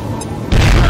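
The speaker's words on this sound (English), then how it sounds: "Eat a grenade, Mr. Alien." A grenade explodes in the video game XCOM: Enemy Unknown. A quiet stretch gives way to a sudden, heavy boom that stays loud and rumbling to the end.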